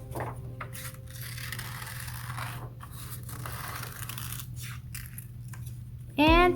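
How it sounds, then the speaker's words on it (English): Scissors snip and rustle through paper while cutting out eye shapes, with a soft steady hum in the background and a brief sharp sound at the very end. "I'm going to cut these out."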